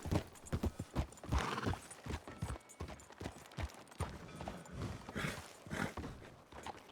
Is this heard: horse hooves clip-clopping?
yes